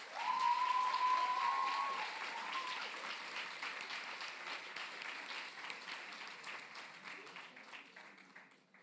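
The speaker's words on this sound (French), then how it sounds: "Un tonnerre d'applaudissements pour Sandrine Rabosso, s'il vous plaît." Applause from an audience honoring a thesis author at a legal awards ceremony, the Prix Jules Favre, a steady dense wash of many hands that is loudest at first and slowly thins and fades, with a faint tone briefly audible early on.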